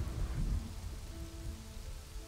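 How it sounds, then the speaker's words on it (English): Steady rainfall in the city-building game Kingdoms and Castles patters continuously, with a low rumbling swell near the start that fades into an even hiss. "Rain filling up all the cracks."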